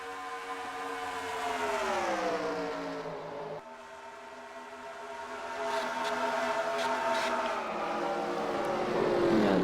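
Race cars in a NASCAR-style racing video game at the Camping World 400 roar at full speed through a wreck replay, a loud continuous engine drone with shifting pitch and a brief dip midway, no talking.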